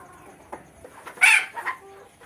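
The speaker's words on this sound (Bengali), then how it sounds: "দেখেন এগুলো সেরেমা বিশ্বের সবচেয়ে ছোট জাতের মুরগি" Small Serama chickens cluck softly a few times nearby, with one brief louder squawk in the middle against a quiet background.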